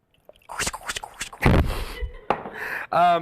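Vodka pours into a glass with a gurgling splash, close and fairly loud, running in short bursts and ending in a rising glug as the glass fills.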